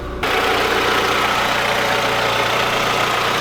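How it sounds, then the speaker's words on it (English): A Mk4 Volkswagen Golf engine idles steadily and evenly close by after a tune-up, a low continuous rumble with no other sounds. "idling so much better"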